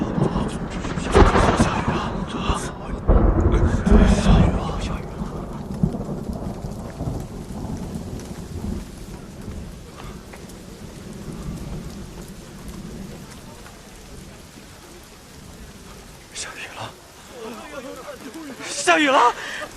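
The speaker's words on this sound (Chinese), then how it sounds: "下雨了！" Heavy rain pours steadily during a drought-breaking storm at a seaside port, with loud thunder rumbling early and shouting voices rising near the end.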